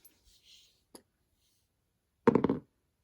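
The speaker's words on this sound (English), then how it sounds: "roll some dice." D&D dice tumble onto a hard surface in one short, close rattling burst, preceded by a few faint isolated clicks and taps in an otherwise quiet room.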